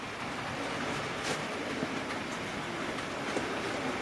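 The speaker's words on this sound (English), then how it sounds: "we might as well run a few trains then" Model railway trains running on a layout in a loft, a steady rolling rumble with faint rail clicks throughout, close and continuous with no talking.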